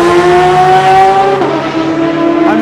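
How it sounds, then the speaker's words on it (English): Porsche race cars at the 24 Hours of Le Mans scream past loudly, high-pitched engine notes sliding down as they go by, one after another. "The Porsches are so loud."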